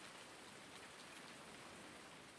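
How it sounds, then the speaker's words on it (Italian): Steady rain falls over a garden field, a soft, even hiss of drops that stays faint and constant throughout with no voices. "A me sta ancora piovendo."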